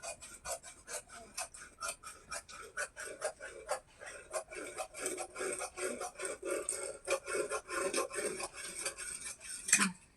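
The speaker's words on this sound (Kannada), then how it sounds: "ಈಗ ಕಟ್ ಮಾಡ್ಕೊಂಡ್ಬಿಡೋಣ." Scissors cutting through old saree fabric for a gown, a steady run of rhythmic crisp snips and rasping cuts close up, with no talking.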